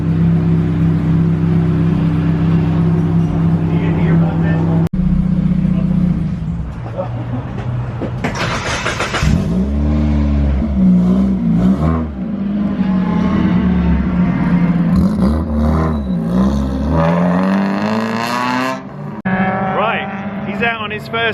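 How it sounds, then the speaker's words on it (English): Engine of a Mark III race car at Michelin Raceway Road Atlanta during a test session, a steady loud drone that rises into revs and passes, with people talking over it throughout. "this is Ayrton's Mark III that he's going out in"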